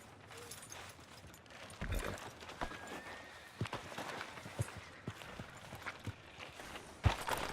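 Horse hooves in Red Dead Redemption 2 clop in an uneven walking rhythm on the ground, with a few sharper strikes against quiet background ambience.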